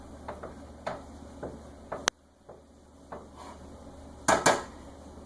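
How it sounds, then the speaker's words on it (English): A spoon stirring brown rice in a cooking pot on a simmer, giving scattered clinks and taps against the metal that stay close and fairly loud, with a brief quiet gap before a final pair of scrapes. "We're going to stir it one more time."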